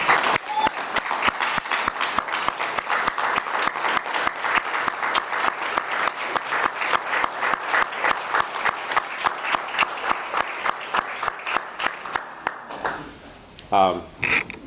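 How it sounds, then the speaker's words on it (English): Sustained applause from a crowd, steady clapping that fades out near the end as a voice begins speaking. "please just stand up and give her a round of applause"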